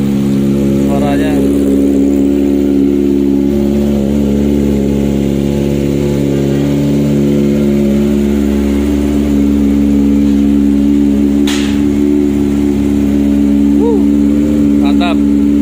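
A Kawasaki ZX-25R motorcycle engine, modified, runs steadily at idle while warming up, a constant low rumble with slight rises in revs, close by and continuous throughout.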